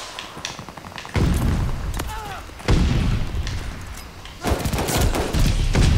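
Pistol hip-fire gunshots in the video game Call of Duty Vanguard: loud, dense bursts of gunfire that start abruptly around three times, layered with booming game noise.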